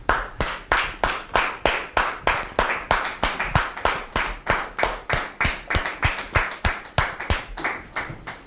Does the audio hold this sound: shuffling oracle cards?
no